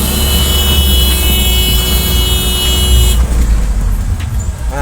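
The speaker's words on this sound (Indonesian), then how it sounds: "Pengemudi truk memberikan isyarat dengan menekan klakson kendaraannya" A truck horn sounds in roadside traffic, a loud sustained blare over rumbling engines that cuts off partway through, leaving close traffic noise and passing vehicles.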